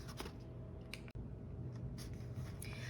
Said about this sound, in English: we're going to go ahead and grab our scissors and start cutting